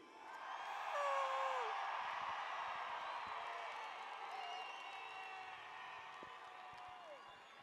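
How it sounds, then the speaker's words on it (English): Large crowd at the Gathering of Nations powwow breaking into sustained applause with whoops and cheers, loud at first and then settling into a steady roar, a voice faintly carrying over it. "give her one big round of applause so loud we can't take it"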